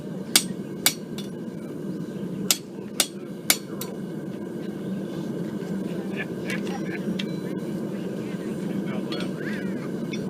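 A farrier hammers metal at a loud forge during a demonstration, with several sharp ringing hammer strikes in two bursts over a constant roaring blower hum, then quieter faint clinks; no clear talking.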